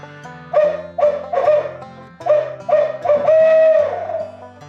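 An HS Strut True Hoot tube, an owl locator call used for turkey hunting, blown to imitate a hoot owl in a rhythmic series of loud, close, resonant hoots, alone with no talking.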